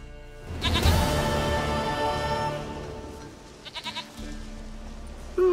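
A goat in The Witcher 3 video game lets out a long, wavering bleat up close, followed by a shorter second bleat, with quiet ambience between the calls.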